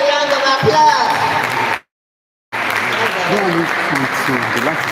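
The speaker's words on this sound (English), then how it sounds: "Please, let's give her a round of applause." An audience at a food week event breaks into a round of applause, dense clapping broken by a brief silent gap, with voices talking over it.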